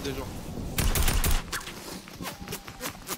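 Bursts of automatic gunfire from the Fortnite video game rattle in quick clusters, loud and close, then thinner scattered shots follow.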